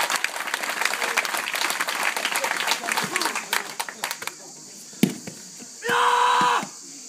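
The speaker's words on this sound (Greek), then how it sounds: "Ένα χειροκρότημα παρακαλώ." Audience applause at a karate demonstration, dense crowd clapping that thins out and fades to scattered claps, followed by a brief loud burst of another sound near the end.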